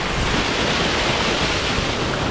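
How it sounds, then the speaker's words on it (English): Steady broadband rush of a waterfall heard up close, continuous and loud with no pauses or talk. "There's a waterfall."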